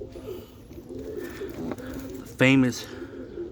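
Racing pigeon hen and other pigeons cooing softly in a loft, low murmuring coos running steadily beneath a man's brief spoken words.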